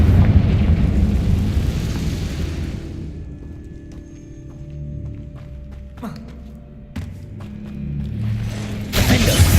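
A Confringo spell goes off in the video game Hogwarts Legacy with a loud, rumbling blast that dies away into a quieter stretch of thuds and clanks, followed by a second burst near the end.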